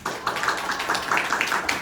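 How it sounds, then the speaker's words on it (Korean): Brief burst of audience applause at a Korean panel discussion, a room of hands clapping together in an even patter that fades quickly, with no talk over it. "박수로 정리하겠습니다."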